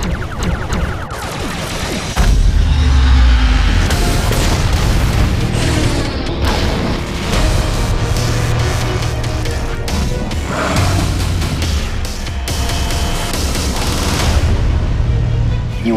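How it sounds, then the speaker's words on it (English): Starship torpedo fire in Star Trek: The Video Game, a dense run of deep booming blasts and crashing impacts over a sustained rumbling score, loud and continuous for the whole stretch with no clear pauses. "Gotti, prepare torpedoes, fire on my mark."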